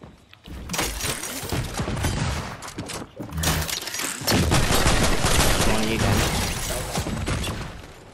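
Rapid gunfire in the video game Fortnite: dense bursts of shots and impacts crackle almost continuously, loud and close, with a brief lull near the middle before the firing intensifies again.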